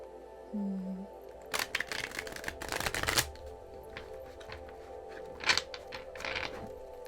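Someone gives a deck of cards a quick shuffle: two crisp riffling bursts in the middle, then lighter flicks and taps, close and fairly quiet with no talking.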